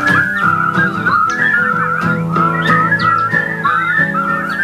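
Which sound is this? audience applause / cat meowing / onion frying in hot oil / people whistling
people whistling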